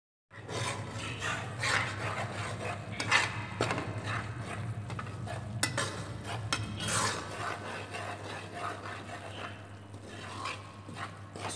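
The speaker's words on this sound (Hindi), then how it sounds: "सूजी की बुनाई हो रही है। आहिस्ता आहिस्ता, ज़्यादा तेज़ आंच भी नहीं रखनी, हल्की आंच, दरमियानी आंच पे आपने हल्के हल्के से हिलाते रहना है।" Semolina slowly roasting for suji halwa in a pan over low to medium heat, stirred gently throughout, giving steady close rasping and scraping strokes that repeat unevenly for the whole stretch.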